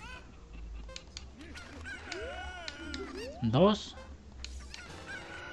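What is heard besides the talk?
cucco chickens squawking in Zelda Ocarina of Time video game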